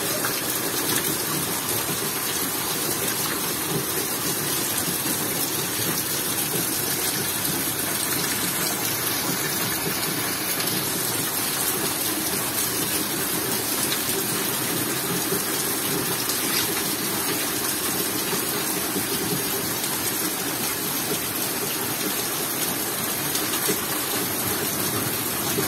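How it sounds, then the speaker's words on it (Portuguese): Steady, heavy rain pours down continuously in northeastern Brazil, a dense full hiss with no voices, holding evenly throughout. "Deixa vocês aí com o barulho da chuva pra vocês dormirem."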